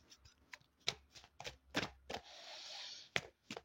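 Oracle cards being shuffled by hand in short crisp riffling bursts, with one longer sustained shuffle in the middle, close and quiet with no talking.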